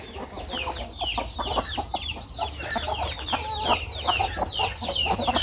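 Chickens cluck steadily on a Thai village farm, a busy chorus of short repeated calls close by, with no talk over them.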